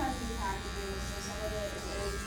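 A foil shaver cuts hair in a barbering session, giving a steady close electric buzz with a slight wavering pitch beneath ongoing talk.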